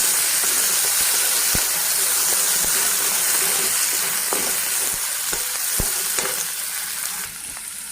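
Tomatoes sizzle and fry steadily in a pan, with a spoon scraping and stirring through them in repeated light knocks; the hiss stays loud and close throughout, easing slightly near the end.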